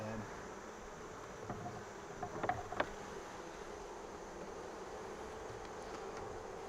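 Honeybees buzz around an open hive in an American AZ-style bee house, a faint, steady hum with a few closer, sharper passes in the middle, heard under quiet background noise.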